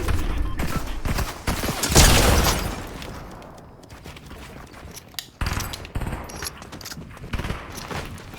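Gunfire in a video game crackles in fast bursts, a heavy burst near the start then scattered shots and rattles over a steady game background.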